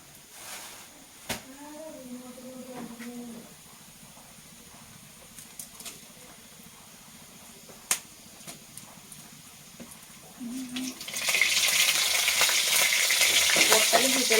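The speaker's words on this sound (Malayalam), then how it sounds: "പൊട്ടലും ചീറ്റലൊക്കെ ഉണ്ട്." Dried red chilies fry in hot oil, bursting into a loud, close crackling and spluttering sizzle near the end after quieter moments with a voice.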